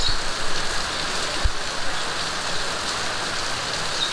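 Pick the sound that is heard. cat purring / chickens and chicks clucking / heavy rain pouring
heavy rain pouring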